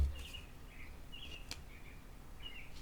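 Faint chirps from small birds in Quebec recur every second or so, distant and soft over a low outdoor rumble.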